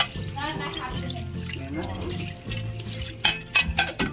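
Tap water runs and splashes over dishes, with clattering bursts near the end and a person speaking over the water.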